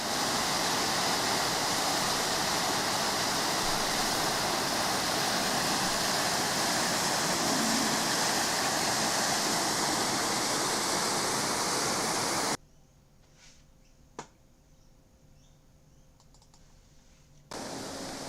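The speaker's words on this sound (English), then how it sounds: "This is the waterfall at African Enterprises." The waterfall at African Enterprises in South Africa roars as a loud, steady broadband rush for most of the time, then cuts to near-quiet background with a single brief click before the rush returns.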